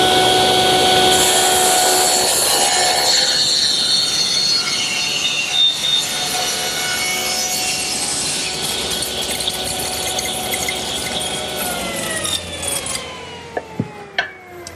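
A power saw cuts a tapered wooden leg held in a jig, giving one loud sustained high-pitched whine that keeps running through the pass and winds down near the end with a few small knocks.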